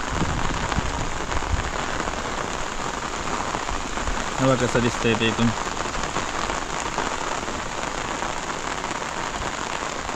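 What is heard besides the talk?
heavy rain falling on farm fields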